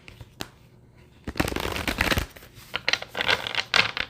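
Tarot cards being shuffled and cut by hand, a quiet tap followed by several brisk riffling bursts of crisp paper flutter, close and clear with no talking.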